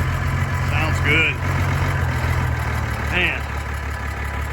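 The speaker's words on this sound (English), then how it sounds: "I love that engine. That's a David Brown engine." A David Brown tractor engine idles with a steady low rumble, loud and continuous, while people talk over it.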